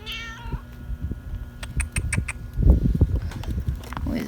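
A barn cat meows in a home kitchen, a short close cry near the start followed by rustling and soft handling noises, no talking over it.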